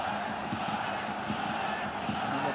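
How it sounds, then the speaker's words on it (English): A football stadium crowd roars for Kitchee SC in a sustained wash of massed voices, with rhythmic chant-like pulses running through the din and no break across the stretch. "the crowd now starting to get behind the local side"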